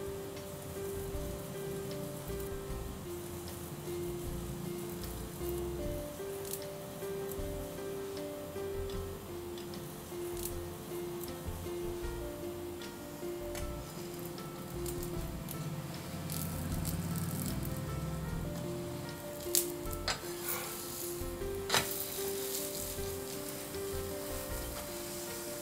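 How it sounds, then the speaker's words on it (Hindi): A layered laccha paratha roasts with ghee on a griddle, giving a faint, steady crackling sizzle throughout, with a few sharper ticks and pops later on, under soft background music with no talk. "दूसरी साइड पे भी मैं इसे घी लगा के सेक लूंगी।"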